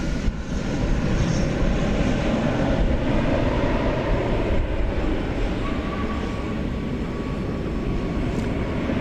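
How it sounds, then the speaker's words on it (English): A United Airbus A320, 23 years old, at Dallas Fort Worth Airport bound for San Francisco, roars steadily and loudly close by at night with a broad, continuous engine rumble and no talk. "I spy a United Airbus A320."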